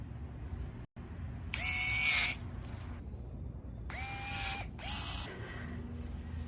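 GARDTECH 7.2V electric pruning shears snip through garden plants, giving several short motorized whirring bursts with quiet pauses between them, close up and fairly soft.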